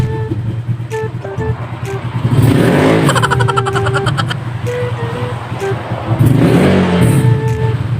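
A motorcycle engine revs hard during a test run after cleaning, climbing in two strong surges over a constant loud idle rumble, close to the listener, with brief tonal chirps scattered through.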